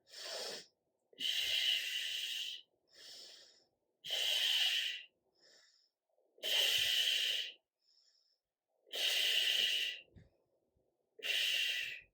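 Rhythmic exercise breathing during a knee-strengthening core workout, with five loud, close, broadband breath bursts alternating with short quieter inhales and brief pauses between them; no talking.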